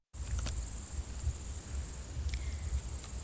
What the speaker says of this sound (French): on a enregistré en pleine campagne, avec quelques bruits parasites, notamment des grenouilles